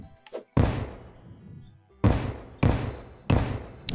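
Bombs exploding in the video game Terraria, four heavy booming blasts spaced irregularly, each loud and close with a decaying rumble, preceded by a couple of brief faint clicks.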